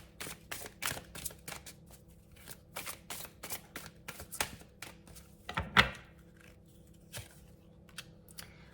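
Cartomancy cards are handled and shuffled close up in a quick run of crisp riffling snaps and flicks, then slower separate taps and slides.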